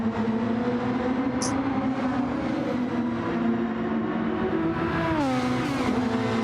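Super Formula single-seaters racing at Suzuka in Gran Turismo 7, a steady high-pitched engine drone with a second car closing and a pitch sweep as one passes, loud and continuous with no talking.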